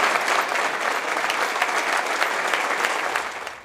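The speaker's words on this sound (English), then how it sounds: "The crowd at the Pfister Hotel gave Selig a standing ovation tonight" A crowd at the Pfister Hotel in Milwaukee gives a standing ovation for Bud Selig's award: dense, steady, loud applause that fills the room for several seconds and tails off at the end.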